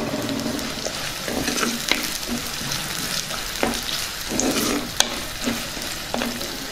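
Chopped onions, curry leaves and spices fry in hot oil in a pan, giving a steady close sizzle broken by repeated scraping stir strokes of a spoon.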